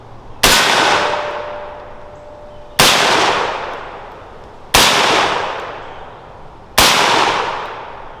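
An MP5 submachine gun fires four loud single shots on a range, each a sharp crack that rings out with a long echoing tail, spaced about two seconds apart.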